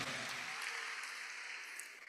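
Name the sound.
audience applause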